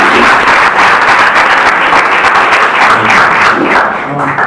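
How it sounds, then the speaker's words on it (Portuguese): Loud, close, vigorous clapping from a church congregation during a Portuguese-language evangelical service, a thick wash of hands that holds steady and then tapers slightly near the end. "Irmãos, pode dar uma salva de palmas para Jesus."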